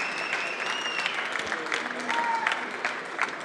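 Applause from the audience greets a finalist at a French coffee championship final; steady broadband clapping fills the short stretch, with tonal whistles and faint voices mixed in.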